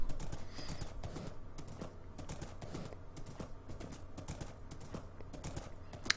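A horse in Minecraft clip-clops along in quick, irregular hoof clicks that keep up through the whole stretch, fairly close, with faint background ambience beneath.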